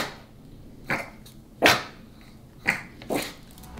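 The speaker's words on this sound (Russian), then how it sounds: "Гавкать сильно она не может" A dog barks on command four times, short, soft bursts spaced unevenly, close by with no talk over them.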